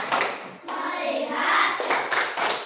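Hands clapping in a classroom, a few quick claps in a short rhythmic pattern with a sustained blurred stretch in the middle, close and fairly loud.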